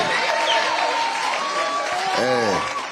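Audience applause at a Kenya Kwanza forum with people living with disabilities, a steady wash of clapping with crowd noise and voices over it, fairly loud and close throughout.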